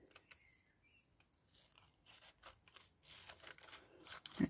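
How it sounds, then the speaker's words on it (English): Scissors snipping paper for an envelope tuck craft, a run of small close crunchy cuts that grow busier and slightly louder toward the end, quiet and without talk. "Do I need to cut that, don't I? Just so that it makes a bit of a corner."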